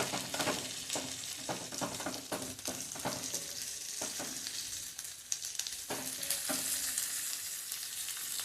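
Sliced onion fries steadily in a pan over moderate flame, a continuous close sizzle broken by soft scraping stirs, with no talking.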